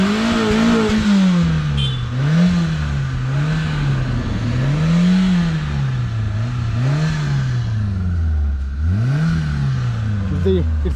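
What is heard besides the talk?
Hyundai Santro Zip car engine starting and revving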